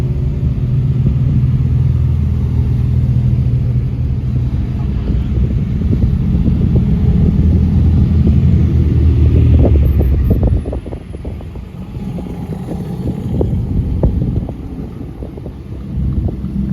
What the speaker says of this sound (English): here's our first car of the day rolling into Italian Car Day